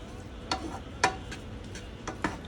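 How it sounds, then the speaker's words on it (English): Sweet onion sautés in a pan, giving off a faint low sizzle broken by a few sharp clicks and scrapes of a utensil. The sound is close but quiet, and no one speaks. "And I'm going to add my sweet onion in. Saute that nicely."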